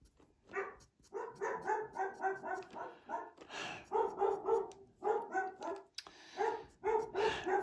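A dog barks repeatedly in quick bursts indoors, a steady run of sharp yaps and woofs at moderate distance, with short pauses between volleys and no talking.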